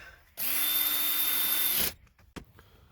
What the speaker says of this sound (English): And then we need our Torx T20 bit. Screw this back down.